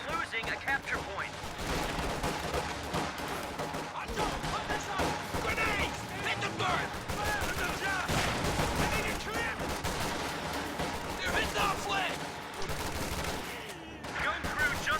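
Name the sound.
machine gun and artillery fire in a strategy video game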